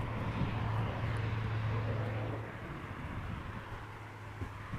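An Airbus A330-300 airliner arriving from Istanbul at Amsterdam Schiphol, heard as a steady broadband jet roar with a low engine drone that eases a little partway through.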